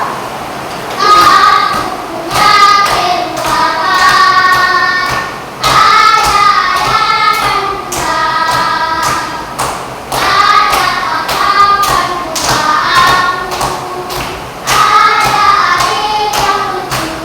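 A group of children claps hands for a friend, with sharp rhythmic claps beating through loud, sung and spoken children's voices.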